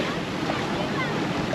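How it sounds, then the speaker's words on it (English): Waves wash in steadily as the tide comes in on a Florida beach with warm turquoise water, a close, continuous broadband rush blended with wind noise on the microphone, with no pause. "The tide's coming in."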